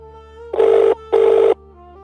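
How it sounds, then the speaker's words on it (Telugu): A telephone call rings out: two loud, buzzing rings, each about half a second long, with a steady tone continuing quietly between them. "అంకుల్కైనా ఫోన్ చేస్తాను."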